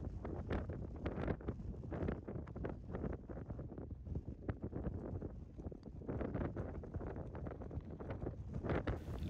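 Strong gusts buffet the microphone on a windy golf course, a continuous rough low roar that surges and dips throughout, close and loud with no talking.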